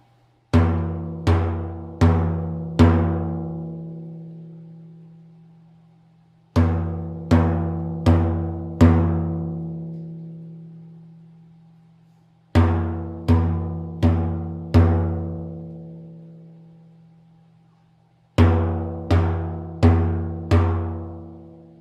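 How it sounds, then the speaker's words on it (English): Soft fingertip doum strokes on a frame drum ring out resonantly in four groups of four evenly spaced hits, with long quiet gaps between groups. The strokes are played close and alone. "I'm going to play 4 strokes"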